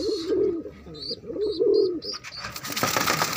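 Pigeons cooing close by in a few soft, throaty, repeated coos, with a bird chirping faintly in between and a brief rustle at the end.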